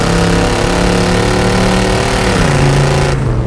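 The 454 V8 engine of a 1971 Chevrolet El Camino SS with Pypes performance exhaust rumbles loudly with a deep exhaust note, holding steady then dropping pitch as it shifts, close and continuous.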